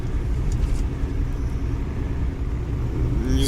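A car drives through a snowstorm at dusk, with its engine giving a steady loud rumble and road noise from inside the cabin and no voices.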